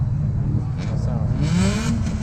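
A Honda CRX engine revs hard outdoors at a street rod event, a rising rasping engine roar with a climbing pitch sweep, mixed with crowd chatter and voices nearby.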